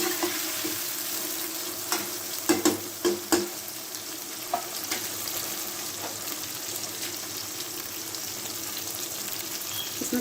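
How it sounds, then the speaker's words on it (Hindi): Masala of browned onion, ginger-garlic paste and tomato frying in a pan for an aloo arvi salan, a steady soft sizzle broken by a few louder stirring scrapes around the middle, with no talking. "मसाले को जो है वो हम अच्छे से भून लेंगे।"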